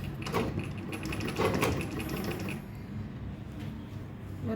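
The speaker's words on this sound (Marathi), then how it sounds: "वरच्या साईडनं हा अशा प्रकारे गोट मारून घ्यायचा आहे." A sewing machine stitching a folded hem on cloth for a fabric bag, giving a close, fairly quiet mechanical whirr with quick rattling bursts that stop partway through.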